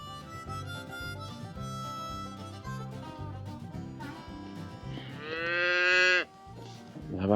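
A ranch cow lows near her newborn calf, a loud, drawn-out moo that rises and bends in pitch, heard over steady background music.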